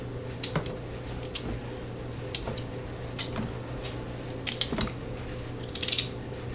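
A knife cuts food into pieces for Jamaican-style red peas soup with pigtail, giving irregular soft chops and taps over a steady kitchen hum, with no talking.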